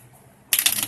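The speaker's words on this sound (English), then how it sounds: "I like when you're actually able to shuffle the deck" Deck of cards shuffled during a Marvel Legendary board game: one quick riffle of crisp rapid flutter, close and short, after a brief near-silent pause.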